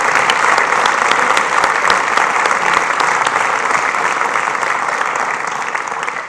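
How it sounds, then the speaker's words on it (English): A school district and community hall of fame ceremony audience applauds its inductees with sustained, loud clapping from a large seated crowd that continues evenly throughout. "Let's give a round of applause to our 5 inductees and show them our appreciation."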